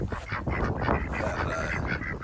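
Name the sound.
ducks quacking outdoors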